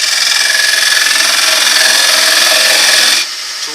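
Parting tool cutting an inward dovetail recess into a wooden bowl on a lathe, a steady close scraping hiss that runs continuously for about three seconds, then stops abruptly, leaving quieter lathe hum.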